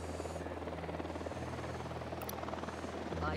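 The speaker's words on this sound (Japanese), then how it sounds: "ターゲットを確認したヘリだ" A helicopter's steady rotor thrum in Tom Clancy's Ghost Recon Wildlands drones continuously at moderate loudness, with faint game effects and a brief high chime layered over it.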